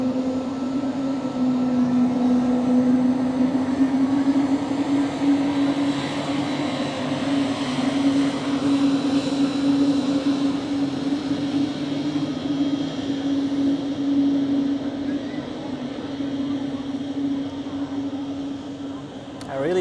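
An Air France jet airliner departs Zurich Airport, a loud sustained engine drone with a steady whining hum running throughout, and speech faintly mixed in beneath.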